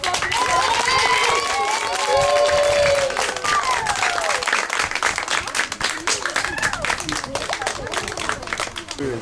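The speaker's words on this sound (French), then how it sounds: "Est-ce qu'on peut applaudir?" Crowd at an orphanage visit clapping in sustained applause, dense rapid claps layered with voices, cheers and children's calls, loud and continuous throughout.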